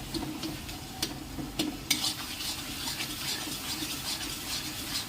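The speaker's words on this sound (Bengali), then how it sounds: "মশলাটা ভালো করে নেড়ে নিতে হবে।" A spoon stirs spice masala in a pan for mutton curry, a steady scraping and sizzling with a few sharp clinks of utensil against metal, close and continuous.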